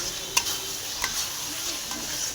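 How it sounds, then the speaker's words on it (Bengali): Potatoes and spices stirred together in a pan for a Bengali fish curry, giving a few soft spatula scrapes and clinks over a low steady sizzle of frying. "এবার আলুটাকে মশলাটাকে ভালো করে একসাথে মিক্স করে নেব"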